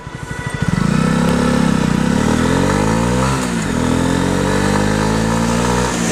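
A motorcycle rides along Avenue Niel in the 17th arrondissement of Paris, its engine rising from idle into a loud, steady near drone with shifting revs and a brief dip mid-ride, no talk.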